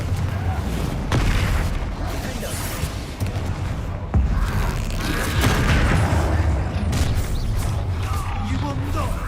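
In the Hogwarts Legacy video game, explosive Confringo spell blasts boom repeatedly amid dense battle noise and crackling impacts, with shouted voices over the chaotic, loud mix.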